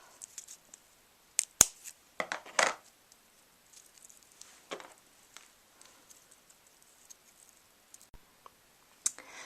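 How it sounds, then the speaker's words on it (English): Scissors trim excess wheat straw, a few sharp snips and light crisp clicks scattered irregularly through near-silence, close but faint. "take the excess from the old piece of straw and just trim it off"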